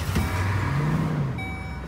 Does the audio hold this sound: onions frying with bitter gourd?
no